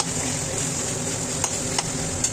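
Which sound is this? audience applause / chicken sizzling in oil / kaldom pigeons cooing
chicken sizzling in oil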